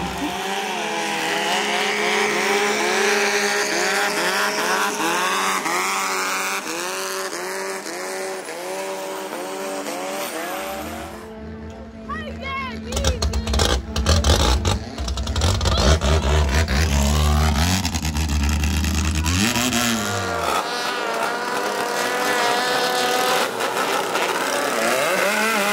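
A twin-turbo 500-horsepower Thai longtail riverboat races in Bangkok, its engine screaming loud and close with rising and falling revs, then a sharp throttle change midway into a deeper, harsher roar before climbing again.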